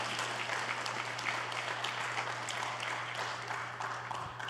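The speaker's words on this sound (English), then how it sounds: "So let's give them all some applause." Steady applause from a panel-event audience in New York City fills the room at moderate volume, a continuous dense patter of many hands with a constant low hum underneath.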